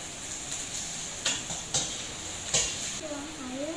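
Shallots, garlic and bay leaves fry in a pan with a soft, steady sizzle. A few sharp clinks of a utensil against the pan stand out, and a voice briefly comes in near the end.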